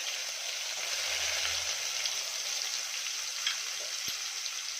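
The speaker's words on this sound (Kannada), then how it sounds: "ಈಗ ಚೆನ್ನಾಗಿ ಈರುಳ್ಳಿನ ಫ್ರೈ ಮಾಡ್ಕೊಳ್ಳೋಣ ಕಲರು ಸ್ವಲ್ಪ ಚೇಂಜ್ ಆಗಬೇಕು ಈರುಳ್ಳಿದು ಅಲ್ಲಿವರೆಗೂ ಲೋ ಫ್ಲೇಮಲ್ಲೇ ಫ್ರೈ ಮಾಡ್ಕೊಳ್ಳಿ" Sliced onions frying in a pan over a low flame, a steady even hiss of sizzling oil running throughout, close and unbroken, with one faint tap near the end.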